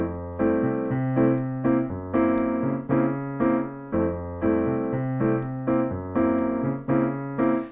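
A piano plays a steady, syncopated bossa nova pattern, bass notes and chords repeating in an even loop, clear and up close.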